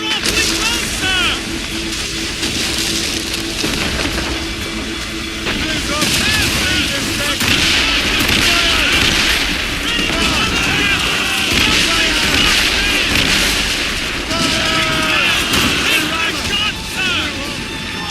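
Ship cannons firing in the Assassin's Creed Rogue naval battle, heavy booming volleys blending into constant wind and sea roar, with shouting voices over the din throughout.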